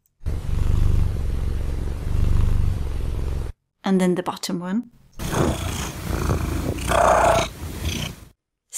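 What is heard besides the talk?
domestic cat trill merged with purring, recorded calls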